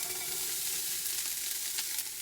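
Carrots going into a hot pan for a ragu, giving a steady, bright sizzle that holds even throughout with no voices over it.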